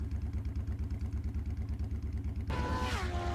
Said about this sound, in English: Colt revs his engine impatiently and speeds off into the dark.